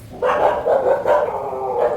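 A dog barks several times in quick succession outside a house in the dark evening, fairly close, with no talking.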